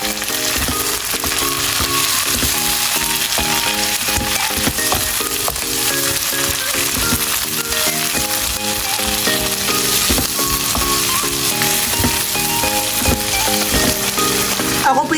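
A steady loud sizzle of tomato hitting a hot frying pan while monggo is being cooked, continuous and close, with background music playing underneath.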